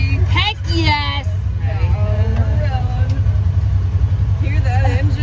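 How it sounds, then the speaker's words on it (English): An ATV engine on a ranch tour at Kipu Ranch in Kauai runs as a steady low rumble throughout, while people talk loudly over it close by. "Hear that engine roar."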